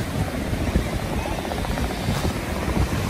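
A helicopter flies over a Florida beach at Panama City Beach, its steady rotor drone and broadband whir filling the scene continuously at moderate distance with surf and wind noise underneath.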